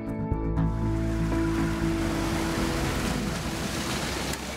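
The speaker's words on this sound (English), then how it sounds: "Such demanding operations where these vehicles traverse aquatic obstacles are known as fording." A US armored vehicle fords deep water, churning up a loud, constant rush and splash. A heavy engine drones low beneath it, close and without pause.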